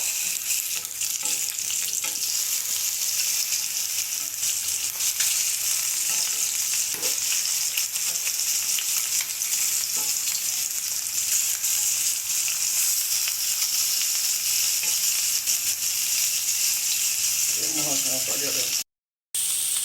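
Rohu fish fry in hot oil, turned over to cook on both sides. A loud, steady sizzle and hiss runs close throughout, with a brief stir and clatter near the end.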